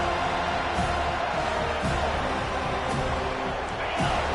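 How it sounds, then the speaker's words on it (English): A football stadium crowd at Clemson versus FSU roars in a dense, continuous wash of cheering and noise, with a few louder swells rising out of the sustained din. "this crowd is fired up. Listen to this noise here."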